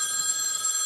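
A telephone bell trills in a film scene, a bright steady electronic ring held close and alone for under a second.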